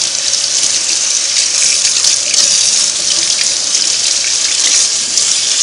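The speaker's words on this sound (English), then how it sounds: "I want to go ahead and start rinsing this right away now." Strong running water streams over Singer 301A sewing machine parts, rinsing off a chemical cleaner in a sink. It forms a loud, continuous gushing hiss with no pauses and no voices.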